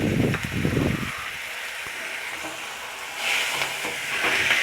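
Chopped tomatoes sauté in a pan for tomato chutney. A few scraping stirs open the sound, then a steady, close hiss of sizzling continues, swelling slightly toward the end.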